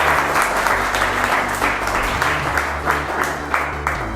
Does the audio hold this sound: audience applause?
yes